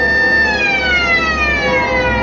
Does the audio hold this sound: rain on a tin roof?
no